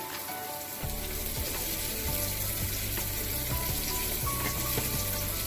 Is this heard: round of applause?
no